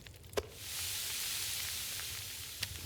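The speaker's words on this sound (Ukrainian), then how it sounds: "І почнемо оленину смажити." Venison frying in The Long Dark video game, a steady bright sizzle that swells in after a short click and then holds evenly, with another faint click near the end and no talk.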